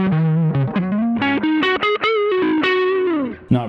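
Electric guitar on the neck pickup through a Pigtronix Disnortion Micro on the parallel Carlos setting, playing a loud, singing distorted single-note lead with bends and sustained notes, heard alone.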